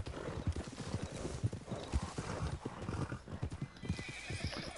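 Horse hooves clip-clop in a steady trotting rhythm with a neigh breaking in, close and fairly loud, from a horse in the video game Red Dead Redemption 2, with faint talk in the background.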